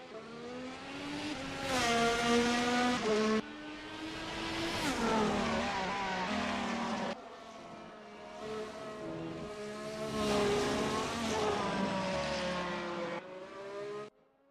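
Race cars roaring through turn 5 off Koval Lane in Las Vegas, engines rising and falling in successive loud passes with gear shifts, fading away at the end.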